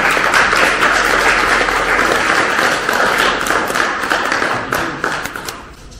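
A lecture audience greets a professor with loud, dense applause, a crackling wash of many hands that holds steady and then begins to thin and fade toward the end.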